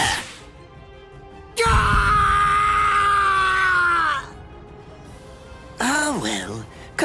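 An anime man screams in pain in a long, loud, strained cry, followed by a shorter anguished yell, with quieter vocal sounds in between.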